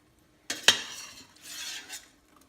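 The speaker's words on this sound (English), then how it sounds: "It's a slotted spoon I'm using." A slotted spoon scraping and clinking against a metal pot while scooping solids from homemade chicken stock, a sharp metallic knock followed by sloshing liquid scrapes, close and alone.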